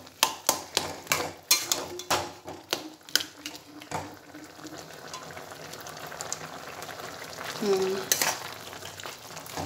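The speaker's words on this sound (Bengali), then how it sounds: "এবার পোস্ত বাটাটা দিয়ে এদিক ওদিক করে একটু কাঁচা তেল দিয়ে নামিয়ে নেব" Poppy seed paste being stirred into potatoes in a hot pan for aloo posto, with sharp scraping and clinking strokes at first, then a softer continuous sizzle and bubbling, and a brief voice near the end.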